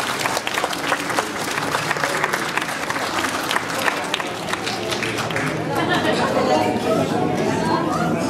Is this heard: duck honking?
no